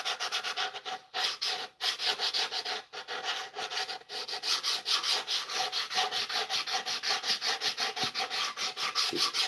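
Steady rhythmic sanding of a wooden Telecaster-style guitar body, a close rasping rub stroking back and forth in a regular pulse with short pauses and no talking.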